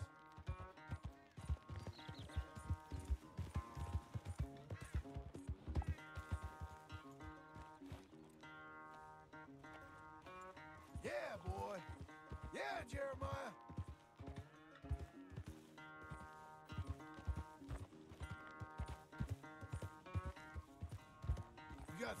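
Rhythmic clip-clop of horse hooves over layered game music in Red Dead Redemption 2, with occasional whinnies and some voices.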